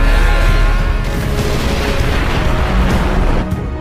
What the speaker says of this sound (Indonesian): kedua rider itu melakukan attack finish secara bersamaan hingga terjadi ledakan besar